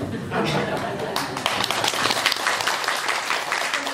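Dense, continuous clapping from a crowd at a Buddhist temple dharma gathering in Gwangju, Korea, fairly loud and steady throughout.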